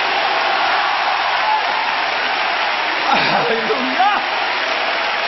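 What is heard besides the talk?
audience applause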